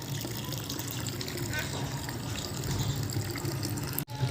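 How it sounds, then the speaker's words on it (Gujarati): Water pouring steadily into a bucket, a continuous gushing flow that grows slightly fuller toward the end, with voices talking nearby. "કેવો ડાયો છે જો પાણી ભરે છે"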